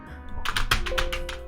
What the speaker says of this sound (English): Typing with boxing gloves is the hardest part.